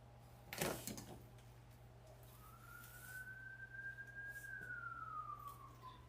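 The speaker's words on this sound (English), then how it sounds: "there must be something going on out there. Lots of sirens." An emergency vehicle siren wails outside a room during wreath crafting, one long rising and falling tone heard at a distance over a steady low hum, after a brief knock or rustle near the start.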